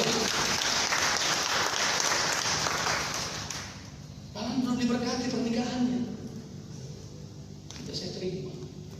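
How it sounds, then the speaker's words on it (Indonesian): Congregation applause at a Sunday service in a GBI church in Balige, a burst of clapping that fades after a few seconds, then a preacher speaks over a quieter room. "Tepuk tangan sama Tuhan."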